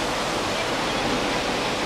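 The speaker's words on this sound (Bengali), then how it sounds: "এইভাবে বৃষ্টির জল তীব্র ভীষণ ঝর্ণা হয়ে ওপর থেকে নেমে আসছে নিচে।" Rainwater waterfall pouring down the rock at the Karla and Bhaja caves near Lonavala, a dense, steady roar of rushing water filling the whole clip, loud and close with no voices.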